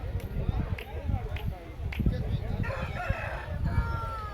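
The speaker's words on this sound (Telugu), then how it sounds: "నాటి కోళ్ళు ఉన్నాయి కోడిపుంజులు ఉన్నాయి చూడండి" Native country roosters crow amid a busy village market din at Chelur, with people talking nearby and clucking fowl scattered through the noisy background.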